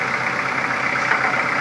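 A Kubota L4240HST-3 tractor fitted with an L2195 72-inch snow blower runs as it creeps forward, its engine giving a steady, close, unbroken drone with a hard-edged mid-range hum throughout.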